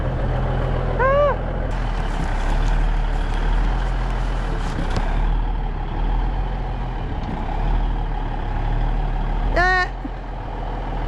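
A cabover truck with a loud diesel engine drives up onto a wooden block, the engine rumbling steadily close by, with a hiss of air releasing midway and reversing beeps at the start and end.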